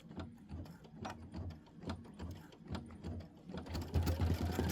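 An embroidery machine sews a tack-down stitch on an appliqué pillow block, a quiet rhythmic chatter of needle and gears in short repeating bursts that grows louder and faster near the end.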